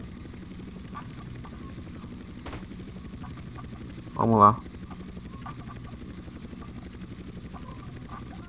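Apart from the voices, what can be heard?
Hunter helicopter flying in the video game GTA San Andreas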